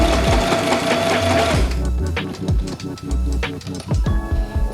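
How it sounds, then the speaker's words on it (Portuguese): A sewing machine stitches an espadrille upper in short bursts of rapid mechanical whirring separated by brief pauses, close up and with no talking. "Eu termino a costura, dou um retrocesso para fechar o ponto."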